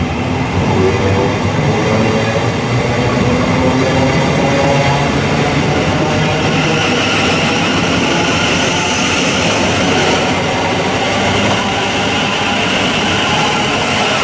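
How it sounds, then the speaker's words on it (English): A Thameslink Class 700 electric multiple unit pulls out of Preston Park station, a loud, steady roar of traction and rolling wheels filling the whole stretch close to the platform. "The Thameslink 700 107 just off."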